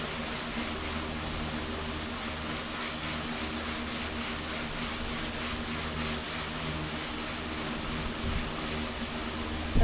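Steady hand sanding on an old 1926 DL&W steel rail, a continuous rhythmic rubbing rasp with regular back-and-forth strokes, close and even throughout with no talking.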